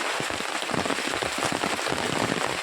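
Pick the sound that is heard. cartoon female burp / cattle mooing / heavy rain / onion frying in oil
heavy rain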